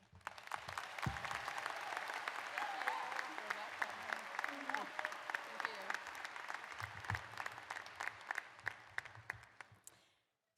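A large graduation ceremony crowd applauds steadily for about ten seconds as the president and commencement speaker is welcomed, dense clapping holding level before thinning and stopping abruptly.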